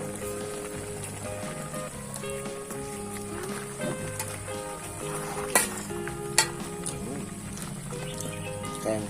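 A Northern Thai banana blossom curry with pork rinds simmers and sizzles in a pot, a steady bubbling hiss over a bed of background music, with a couple of sharper clinks near the end.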